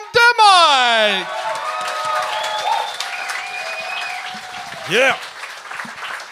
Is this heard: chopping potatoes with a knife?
no